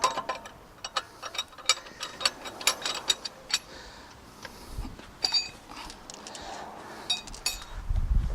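A ratchet loosens the wheel nuts on a Tesla Model Y wheel, giving quiet, close bursts of quick metallic clicks and ticks with brief pauses between turns.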